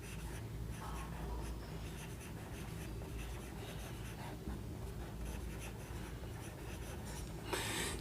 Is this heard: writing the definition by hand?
yes